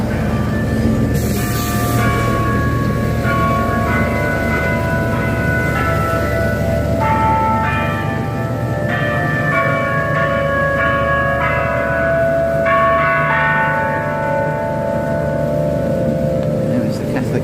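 Church bells of a Catholic church ring on a town street, a steady series of sustained chimes layered over constant traffic rumble for the whole stretch, with a person speaking at times.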